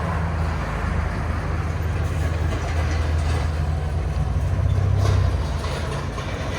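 A 2019 Alfa Romeo Giulia Q2 with a 2.0L turbo engine and a muffler delete, a T pipe in place of the muffler, gives off a steady deep exhaust drone that swells briefly, close and without talk.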